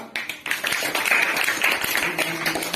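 Children at a school ceremony applaud the head teacher, with a steady stretch of many hands clapping mixed with voices.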